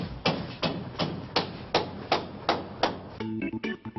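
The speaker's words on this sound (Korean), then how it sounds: "분명 공사장에서 들리는 망치 소리 같은 게 당시 어디서 나는 건지 알 수가 없다." Hammer blows ring out somewhere in a quiet village, the kind heard at a construction site: eight sharp, evenly spaced strikes about every 0.4 seconds, fairly loud and alone, followed by a brief burst of clattering knocks.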